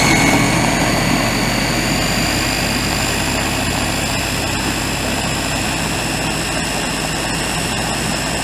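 A Ninja blender spinning hummus at full speed: a loud, steady, close high-pitched motor whine and whirring roar holding constant throughout, with no talking.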